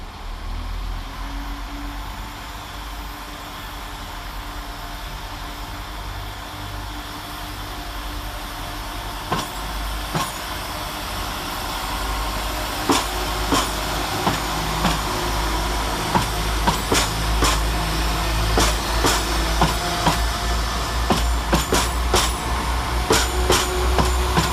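A West Midlands Railway class 172 diesel unit pulls out of Stratford-upon-Avon station, a low steady engine rumble building as rhythmic wheel clicks and clacks over rail joints grow louder and more frequent near the end, with no voices.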